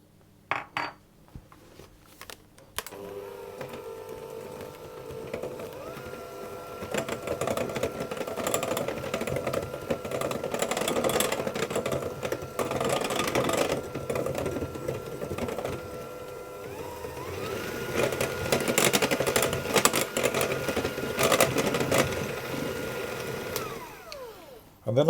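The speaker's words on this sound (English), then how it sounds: "I'm just going to whisk those until they're fully combined." A whisk beats salt and flour into a batter for apple and almond tarts, a fast, continuous scraping rattle against the bowl that runs steadily for about twenty seconds and stops abruptly near the end.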